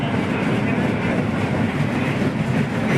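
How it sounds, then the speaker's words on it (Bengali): A train pulls away near Kolaghat, a dense, loud, steady rumbling roar close by with no breaks, as if heard from beside or aboard the moving carriages. "ট্রেনটা কিন্তু ছেড়ে দিল"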